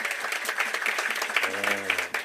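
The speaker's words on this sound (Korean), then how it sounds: "박수 한번 주세요" Audience applause after a talk on food and health, dense steady clapping from a crowd close by, with a voice speaking over it near the end.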